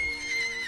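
A horse in the video game Minecraft Legends gives a brief whinny with a clip-clop of hooves, heard alone.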